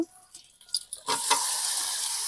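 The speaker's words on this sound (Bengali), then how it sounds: "আমি এখন মাংসটা দিয়ে দেবো, মশলা মাখানো মাংস।" Spice-marinated mutton hits hot oil and fried masala with a few soft clinks and scrapes, then a loud, steady sizzle bursts up and holds to the end.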